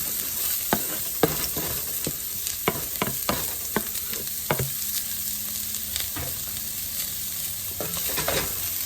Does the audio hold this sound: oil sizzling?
yes